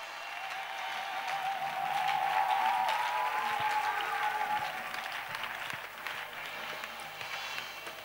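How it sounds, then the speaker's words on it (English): A church congregation during an intercession service claps as an offering to Jesus, a moderately loud, sustained round of applause with a faint sung or spoken tone underneath. "Clap offering to Jesus."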